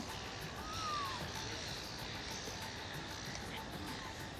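A single short bird call rises faintly over a steady background hiss, distant and brief, at a T20 cricket match at the MCG.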